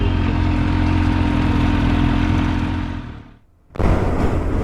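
Kawasaki Ninja 300 motorcycle riding on a road, a loud steady engine drone with wind that drops away briefly near the end before surging back.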